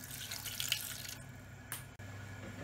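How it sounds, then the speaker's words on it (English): Half a cup of water poured into a pot on the stove while making Persian lavashak, heard as a steady close splashing rush that stops abruptly, then a brief final trickle. "half a cup of water"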